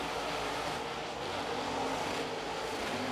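Dirt late model race cars roar around Carolina Speedway during an outlaw heat race, a steady broadband engine drone from several cars at a distance, continuous and fairly faint, with no talking.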